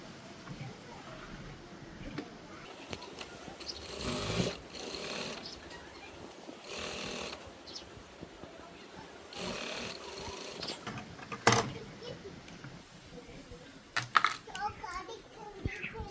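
A sewing machine stitches fabric along the lining side during a tailoring job, running in several separate bursts of a few seconds each with quiet pauses between, fairly close and moderately loud.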